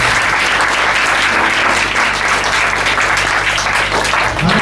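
A church congregation claps in praise during a New Year worship service, a loud, continuous roar of many hands near and dense throughout with a low hum underneath.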